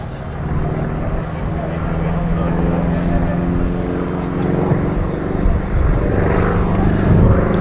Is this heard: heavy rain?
no